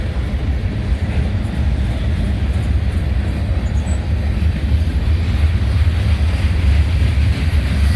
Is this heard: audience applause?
no